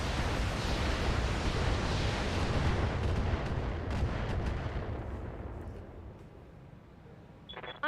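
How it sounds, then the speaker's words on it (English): Heavy gunfire and artillery in a war video game, a dense roaring barrage of blasts that gradually fades, with a faint chime at the end. "I'm under heavy fire."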